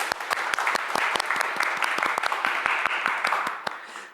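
A studio audience at a Korean broadcast special applauds the arriving Gwangju mayor, with many sharp individual claps standing out over a dense, steady roar of clapping that fades slightly at the end.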